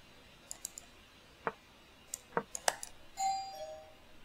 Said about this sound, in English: And there goes my doorbell again.